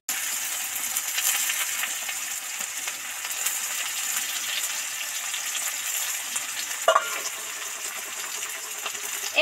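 Chopped onion fries in hot oil with dried chili and bay leaf on a wood-fired clay stove, giving a steady, even sizzle throughout, with a single brief clatter near the end.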